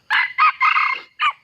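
A young wild jungle fowl crows close by, one short broken crow in four quick segments, clear and alone in an outdoor setting.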